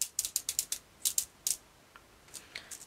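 Titanium beads sliding down a cord, a quick run of about eight light, close metallic clicks, then a pause and a few fainter taps.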